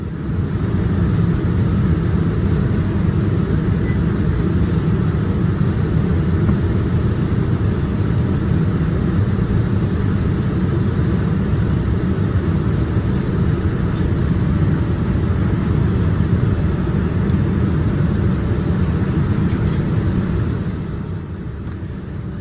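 Inside the economy cabin of a United Airlines flight descending into Los Angeles, a steady, loud low-pitched engine and airflow roar fills the space without a break, easing slightly near the end.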